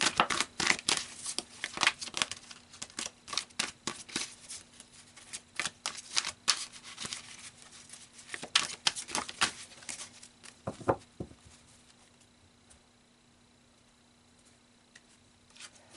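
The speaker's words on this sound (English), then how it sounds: "So let's pull some more cards" Tarot cards riffled and pulled from a deck for a reading, giving dense papery rustles and flicks in bursts over about ten seconds, then near-silence with a single soft card snap toward the end.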